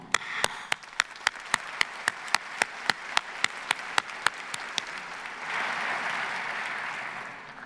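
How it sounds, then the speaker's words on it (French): Audience applause at the opening ceremony of the 2016 World Cancer Congress in Paris, starting as a run of regular, sharp single claps and swelling into a dense, sustained ovation from the crowd. "Il mérite nos applaudissements."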